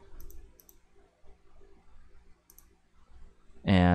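Keyboard typing while a password is entered, heard as a run of quick, light clicks in irregular bursts, fairly close and soft, ending with a sudden louder burst of noise.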